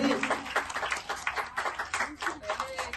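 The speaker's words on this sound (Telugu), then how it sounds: "ఒకసారి చప్పట్లతో అందరూ కూడా చప్పట్లతో" Children and an audience clap together at a school literacy ceremony, a quick burst of scattered, overlapping hand claps lasting a few seconds.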